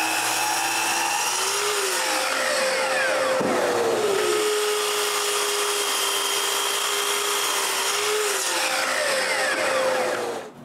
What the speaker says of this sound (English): Then I move the miter to 0 and make the last two cuts.